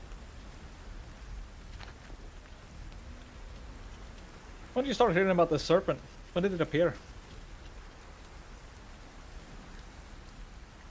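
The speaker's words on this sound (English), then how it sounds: "You're gonna be stuck with rain for a long time then." Steady rain hisses evenly throughout in a soft, constant wash, with two people briefly talking partway through.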